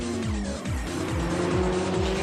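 A BMW M3 GT2 race car at the Nürburgring screams past, its engine note sweeping repeatedly through gear changes in a loud, continuous howl with a brief dip midway.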